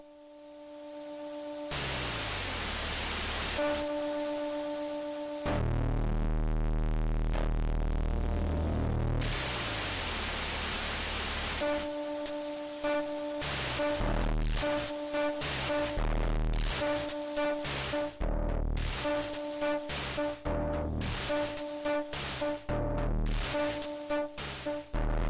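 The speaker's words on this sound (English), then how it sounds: "Pretty sweet distortion." Percussion from a synth app on iOS with gain pushed to 100 and into the red, starting as harsh buzzing tones and a sweeping noisy chirp, then breaking into loud, rapid distorted beats.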